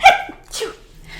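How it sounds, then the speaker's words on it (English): A single sharp sneeze close to the mic, followed by a short breathy burst and then quiet. "I feel like I have a sneeze coming on"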